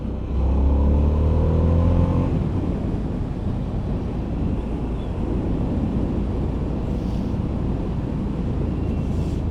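A Harley-Davidson Sportster S motorcycle engine revs in sport mode on a test ride, a deep rising drone for about two seconds that gives way to a loud, steady rush of wind and engine noise.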